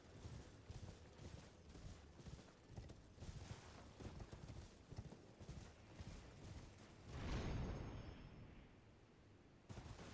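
Rapid, steady hoofbeats from a galloping horse in the video game Elden Ring, a dense patter of thuds that continues for several seconds before a deeper thump and rumble near the end, with no voices.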